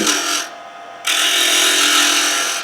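A woodturning lathe spins a wooden pepper mill blank while a tool makes a scraping cut, producing a loud, close, harsh rasping whir that drops briefly then resumes steadily, with no talk.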